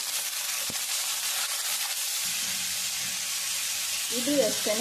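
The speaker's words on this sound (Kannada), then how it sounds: "ಈಗ ನೋಡಿ, ಹೆಚ್ಚಿಟ್ಕೊಂಡಿರುವಂಥ ಟೊಮಾಟೊನೇ ಇದಕ್ಕೆ ಸೇರಿಸ್ತಾ ಇದ್ದೀನಿ." Chopped tomatoes added to a hot pan for tomato chutney produce a continuous, moderate hiss of frying with a faint tap early on, while a voice speaks quietly near the end.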